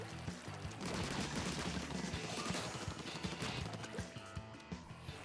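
Rapid ink shooting and splattering in Splatoon 2, a busy stream of wet, percussive bursts and impacts layered over game background music, with no speech.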